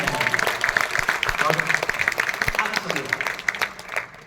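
Audience clapping at a poetry recital, loud dense applause with sharp individual claps standing out, continuing for several seconds before thinning.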